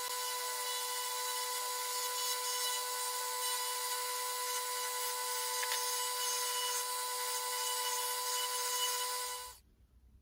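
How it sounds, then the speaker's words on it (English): A Lumberjack BD370 bench top disc sander runs steadily, its motor giving a constant high whine with a rough abrasive hiss as scrap wood is pressed to the disc, then it cuts off near the end. "I'm just going to try the disc sander and see how well that performs."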